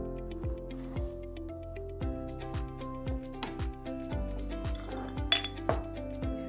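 A knife cuts tomatoes into quarters on a cutting board, producing a series of sharp taps and clicks at an uneven pace, close and fairly quiet.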